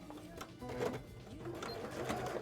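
A sewing machine runs briefly while cosplay arm wings are sewn, giving a close, rapid mechanical whir in short bursts, with light background sound.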